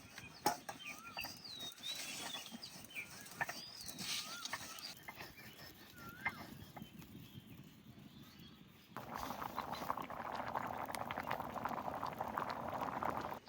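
Curry with prawns simmering down in a pot, a soft bubbling and plopping close by, quiet at first with chirping birds in the background, then a denser, louder boil in the final seconds.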